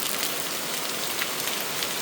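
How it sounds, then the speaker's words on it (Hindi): Heavy rain pours steadily outside a house, a dense continuous hiss of water hitting the roof and ground, loud and close with no gaps. "इतनी बारिश है ये,"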